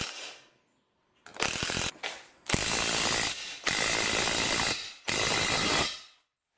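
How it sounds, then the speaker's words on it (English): A cordless impact wrench drives a 27mm bolt on a pipe expander in four close, loud bursts of rapid rattling hammering, separated by brief silences, with the last burst trailing off. "I'm going to grab my impact wrench, and a 27mm socket is what size this bolt is"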